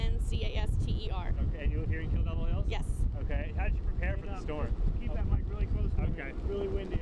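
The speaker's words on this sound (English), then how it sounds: "Really windy out here." Strong, gusty wind from Hurricane Sandy buffets the microphone with constant loud rumbling, while a person talks nearby throughout.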